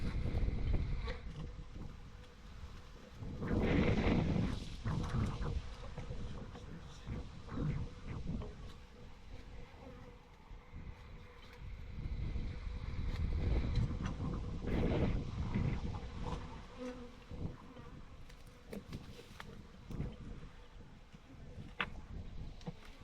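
Honeybees buzz in a continuous droning swarm around a water source, the hum swelling and fading as individual bees pass close to the microphone, with faint wind noise underneath.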